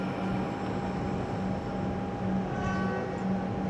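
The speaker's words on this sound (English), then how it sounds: "And that train is now ready to go." An old Comeng suburban electric train bound for Frankston sits at South Yarra station, giving off a steady, close rumble with a constant electrical hum and faint recurring whine, and no talking over it.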